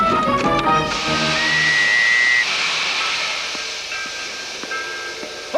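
A boat train waits to depart, a continuous hiss and rumble that holds after a brief musical passage, with a sustained whistle-like tone rising above it for a moment.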